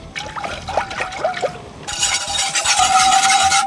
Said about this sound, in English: Now we're gonna slowly whisk in the milk.